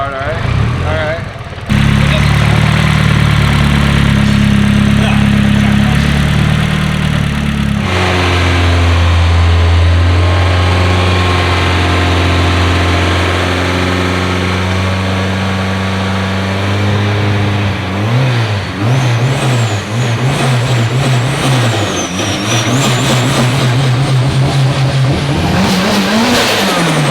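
Freshly built Toyota JZ engine running at first start-up, loud idle settling then repeated revving swells and drops near the car, with people talking over it.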